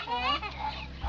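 Nearby fowl, ducks and chickens, give a short burst of clucks and honking calls, moderately loud and close.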